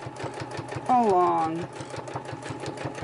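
A sewing machine stitching a fabric cover runs in a fast, steady mechanical patter throughout, with a brief voice speaking over it partway through.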